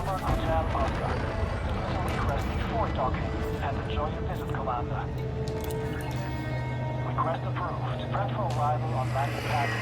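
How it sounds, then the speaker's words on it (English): A video game spaceship's afterburner fires during an automated docking approach: a loud, steady engine roar with whining tonal layers that holds for the full stretch, with voices over it. "At least the auto dock uses the afterburner as well."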